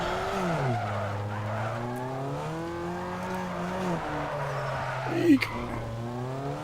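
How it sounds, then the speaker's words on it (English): A car drifts in the PC game Need for Speed Underground 2, its engine drone rising and falling in pitch throughout, with a sharp tire skid squeal bursting out near the end. "this should make drifting easier"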